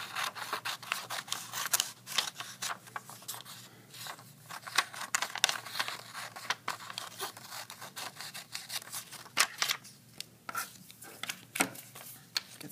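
Paper sheets snipped into columns with scissors, a steady run of crisp, close cuts and rustles repeating throughout.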